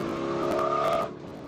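A Spec Corvette race car sweeps past on a scenic road course, its loud engine drone holding a steady pitch for about a second before dropping away abruptly as it moves off.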